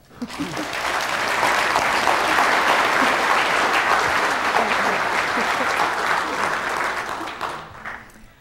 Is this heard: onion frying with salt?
no